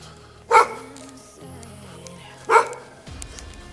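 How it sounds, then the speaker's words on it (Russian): A dog barks twice on a December riverside walk along the Severskiy Donets in Kamensk-Shakhtinsky, each sharp bark spaced about two seconds apart, fairly close, over quiet outdoor background. "Хвостом виляет, но лает"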